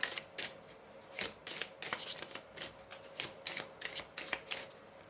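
Tarot cards are shuffled by hand close up, a quick series of soft riffling flicks and slaps in an irregular rhythm, with no talking.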